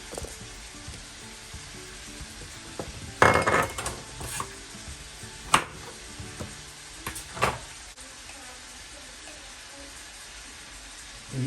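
Ginger and garlic hit a hot pan for an arvi gosht curry, giving a steady low sizzle with a few sharp clatters of a spoon against the pan, close and unaccompanied by talk.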